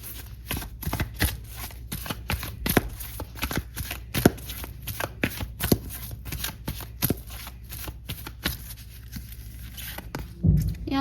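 Tarot cards being shuffled by hand in a steady run of crisp, close riffling flicks and slaps, continuing for the whole stretch with no talk.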